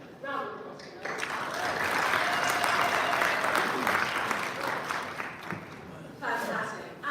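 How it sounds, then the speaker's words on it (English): Applause breaks out from an audience at a United Nations town hall in the ECOSOC Chamber, a sustained wash of clapping lasting several seconds under and between a speaker's voice. "Round of applause for those."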